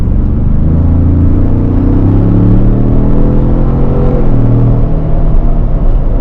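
A 2021 Ford Bronco First Edition with a twin-turbocharged V6 on 35-inch tires, driving along with a loud, steady engine and road rumble and slight rises in engine pitch, continuous throughout.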